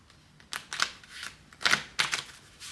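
A deck of reading cards is shuffled by hand in a few quick separate bursts of riffling and snapping, close by, with quiet pauses in between.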